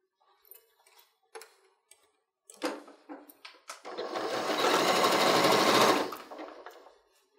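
A sewing machine stitches a 1/4-inch seam on a fabric headwrap, starting with a few ticking stops and starts, then running in a steady close whir for about two seconds before slowing to a halt.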